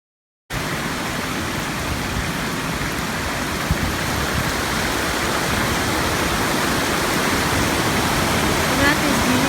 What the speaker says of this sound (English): We're at these beautiful waterfalls here on the Black River.